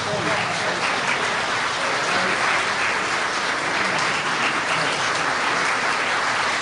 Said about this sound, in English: Let's have another round of applause for the serious leaders.